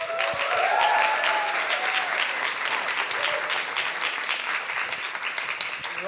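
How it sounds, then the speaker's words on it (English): Sustained audience applause for a speaker at a science slam, dense clapping from a large crowd that stays loud and steady throughout. "Big applause for Andrew."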